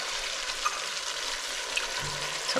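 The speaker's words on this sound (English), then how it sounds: "We're gonna put in our spices and then let them cook for about a minute." Ground meat crumbled with spices frying in a pan for Walt Disney's chili and beans, a steady loud sizzle and crackle throughout with a low thud of stirring near the end.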